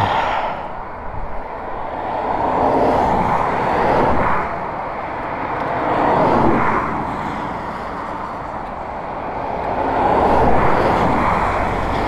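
A motorcycle engine in neutral revs hard in repeated rising and falling surges, loud and close, with no talk in between.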